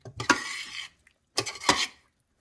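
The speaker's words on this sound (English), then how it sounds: "I'm going to mix it up." Stirring a vegetarian mixture in a pan at home, two short bursts of spoon-against-pan scraping and clatter separated by a brief pause, close and fairly loud with no talking.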